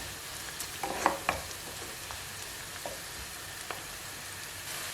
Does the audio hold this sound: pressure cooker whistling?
no